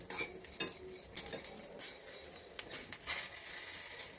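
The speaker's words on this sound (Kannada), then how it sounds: "ಹಾಕೊಂಡು ಸ್ವಲ್ಪ ಕ್ರಿಸ್ಪ್ ಆಗೋ ತನಕ ಹುರಿಯೋಣ." Pomegranate peel and black peppercorns frying in a pan, heard as soft sizzling under frequent scraping and clinking stirs of a utensil, close and moderately quiet.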